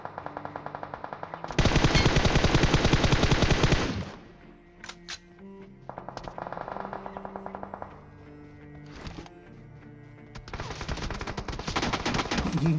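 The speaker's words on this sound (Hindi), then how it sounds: "यहाँ पे हमें सामने की तरफ से काफी सारे फायरिंग साउंड आ रहे थे" Automatic gunfire from ahead in a mobile battle game, arriving as long rapid bursts separated by quieter gaps and shorter rattles, loud and dense with no talking.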